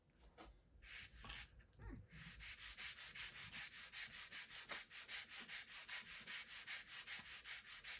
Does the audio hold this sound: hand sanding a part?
yes